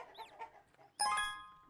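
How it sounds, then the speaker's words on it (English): Farm chickens in the video game Summer in Mara: a few soft short clucks, then a brighter chiming game jingle rings in near the end, with no talk over it. "feed another couple of chickens and get some eggs"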